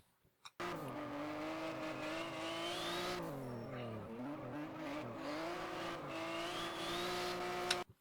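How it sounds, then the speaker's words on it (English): Simulated drift car in rFactor held at full throttle, its engine note rising and dipping steadily through a transition with continuous tire squeal, loud and unbroken for about seven seconds with no talking. "let's let it play through full speed, listen for the throttle control"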